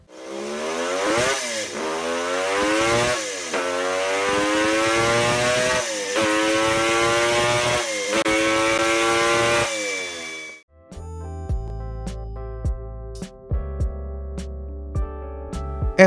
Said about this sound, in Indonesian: motor ini menggunakan mesin 3 silinder 2 tak yang masih menggunakan karburator dari Kawasaki